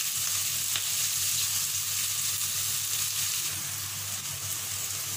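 Green beans fry uncovered in an open pan for a Sri Lankan bean curry, giving a steady, loud broadband sizzle with a low bubbling hum underneath, continuous and unbroken for the whole stretch with no talking.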